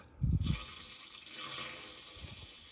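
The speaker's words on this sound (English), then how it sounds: "I'm going to open it up and release all of the water and the pressure that's in the tank" Water gushes from a well pressure tank's drain valve through a hose into a floor drain, starting with a louder burst of rushing water and settling into a steady, moderate flow.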